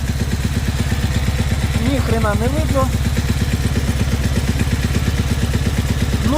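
A Zongshen ZS200GS motorcycle engine idles steadily with a rapid, even putter throughout, close by, with no abnormal noises, while someone speaks briefly over it.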